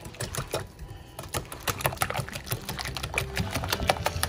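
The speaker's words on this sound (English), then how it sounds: "So I am gonna break out the whisk just for a minute." A whisk beating a lemon bar egg mixture in a bowl, giving rapid rhythmic clicking and scraping strokes that run continuously and close up, with no voices.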